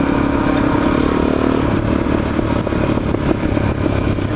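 Motorcycle ridden through mountain switchback turns, its engine droning steadily and loudly with a slight lift and clatter near the end, no talking.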